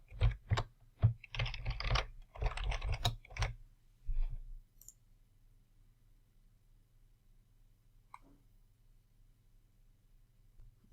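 Keys clatter on a computer keyboard in quick bursts as a new password is typed, close and clear, then stop and leave a quiet room hum with one faint click near the end.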